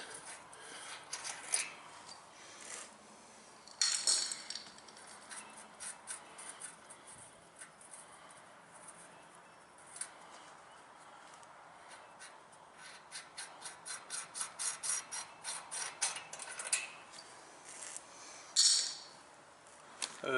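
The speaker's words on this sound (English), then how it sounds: "Let's go ahead and remove this locking nut, and the fulcrum bolt will have to be unscrewed." Loosening and removing a locking nut and fulcrum bolt on the valve train of an MTD riding mower: quiet scraping, rubbing and a quick run of small ratcheting clicks near the end, with a few sharp metallic clinks, close by.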